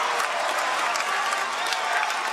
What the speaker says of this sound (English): The crowd is going crazy here at North Hagerstown